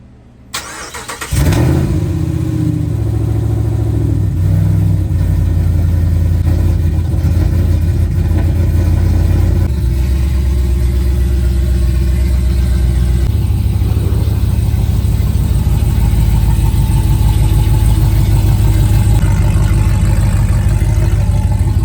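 A Ram 1500 pickup fitted with new Wilwood front big brakes drives while bedding the brakes: after a brief start, a steady, loud engine and road rumble carries on throughout, with no talk.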